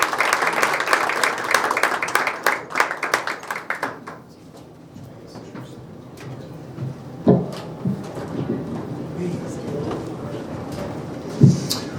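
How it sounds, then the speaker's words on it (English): A room at a county candidate forum gives a round of applause for KJ Johnson. The dense clapping lasts about four seconds, then gives way to scattered room noise, movement and a few knocks. "please give a nice round of applause to KJ Johnson"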